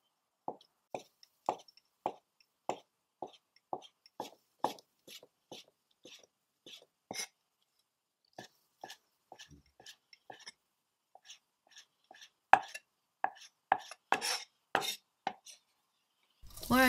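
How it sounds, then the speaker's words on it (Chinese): A knife dices dried tofu and soaked shiitake mushrooms on a cutting board, making crisp, close, evenly paced taps that come in runs with short pauses and turn quicker and denser toward the end. "把香干和泡发的香菇都切成丁"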